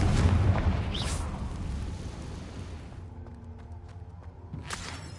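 A Confringo blasting spell explodes in Hogwarts Legacy with a loud, deep boom at the start. It fades into a rumbling tail, and a softer burst follows near the end.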